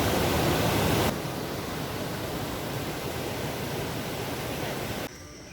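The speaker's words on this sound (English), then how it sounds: "We have come to the Maithon waterfalls" Maithon waterfall roaring steadily, a dense broadband rush of falling water that is loud and close, easing slightly after the first second and continuing unbroken with no voices.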